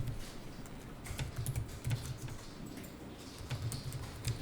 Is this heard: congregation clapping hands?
no